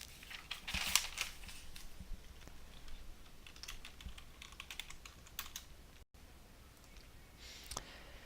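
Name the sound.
typing a password on a computer keyboard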